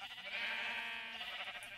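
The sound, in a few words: sheep bleating on a sheep farm in a video game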